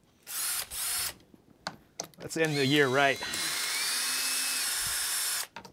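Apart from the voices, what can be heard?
power drill drilling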